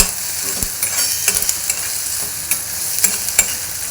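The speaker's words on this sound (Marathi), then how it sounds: "हे बघा आपण थोडं असं हे फ्राय करून घेतोय" Ingredients for poha fry in a pan while a spoon stirs them, giving close, loud scraping strokes in an irregular rhythm over a constant sizzle, with no voices.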